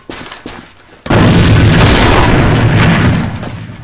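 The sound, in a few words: grenade explosion in the video game AVA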